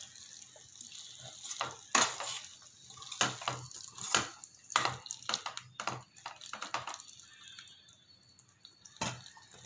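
Mushroom chukka is stirred in a pan, giving faint, irregular scraping and wet squishing taps with quiet gaps between strokes.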